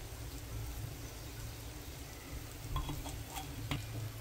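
Oil sizzling in a pan while making stuffed okra, a faint, steady crackling hiss close by with a few sharper pops near the end.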